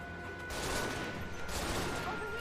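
Gunfire in a fantasy video game, a dense, continuous rattle of rapid shots held steady and loud for the whole stretch, with faint voices under it.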